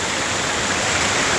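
Non-stop waterfall pouring down a hill during the rainy season, a steady, dense broadband rush of falling water filling the whole clip at close range with no voices.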